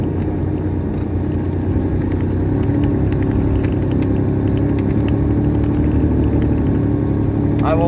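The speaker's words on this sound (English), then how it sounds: "I've only got a two-wheel drive Ford Explorer, manual transmission, as y'all can see." A manual two-wheel-drive Ford Explorer drones steadily through deep snow with an ice house in tow, its engine a continuous low rumble filling the cab.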